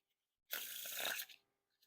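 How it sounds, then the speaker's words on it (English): A single burst of Light Roast playing cards riffling as the deck is fanned out, crisp and close, lasting under a second before trailing off. "Now for a giant fan of that back design."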